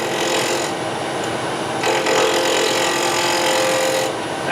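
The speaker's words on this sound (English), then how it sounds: "The gouge is positioned about a 45-degree angle, and I'm literally just moving the handle backwards." A steel gouge shears a wooden bowl spinning on a lathe, giving a steady scraping, rasping hiss that grows louder and thicker midway through and runs continuously with no talking.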